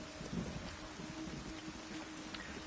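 Rain falling outdoors in the video game Everybody's Gone to the Rapture, a soft continuous hiss of drops with a faint low rumble beneath, quiet and steady with no speech.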